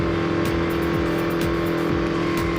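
A car engine in the racing game Real Racing 3 howls at high revs while doing donuts, a steady loud drone with pitch swinging up and down in quick repeated sweeps.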